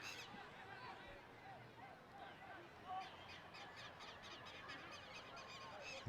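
Lapwings call repeatedly over a grass pitch during a 7-a-side football match in Rio, their high cries rising above a steady crowd and commentary bed.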